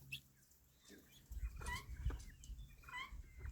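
About five guinea hens perched on top of a canoe chatter in soft clucks and chirps, with faint rustling, close but quiet and without talking.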